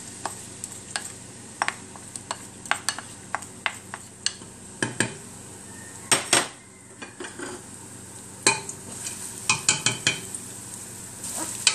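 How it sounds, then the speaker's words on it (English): Onions sauté in hot oil in a pan for kabsa rice, giving a steady close sizzle broken by frequent sharp clicks and scrapes of a utensil against the pan, with no talking. "we're going to add the oil and saute the onions and the rest of the vegetables."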